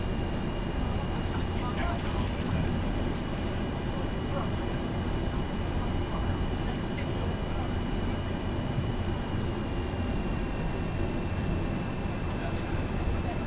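Steady jet engine roar and airflow from a Boeing 737-200 landing replay in the X-Plane flight simulator, a constant broadband drone with faint whining tones, with someone talking over it throughout.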